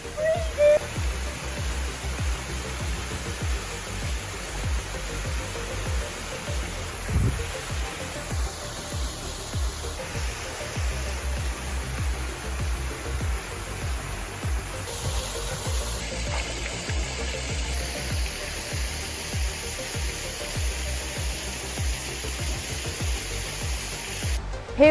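Waterfall at Whorneyside Force pouring into a pool, a steady broadband rush of falling water, continuous and fairly close, with no talk over it.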